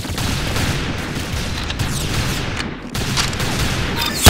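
Dense, continuous gunfire from the video game Arsenal, a loud steady barrage of rapid shots and bursts with no pauses, no voices heard.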